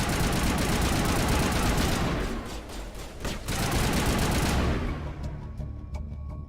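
Sustained automatic gunfire in a Mass Effect firefight between an Alliance Marine and mercenaries, dense overlapping bursts at close range that dip briefly midway, then continue before thinning out at the end.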